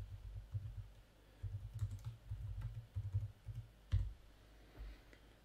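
Quiet typing on a computer keyboard while entering text in Microsoft Word, soft irregular clusters of key taps with short pauses between bursts, faint and close.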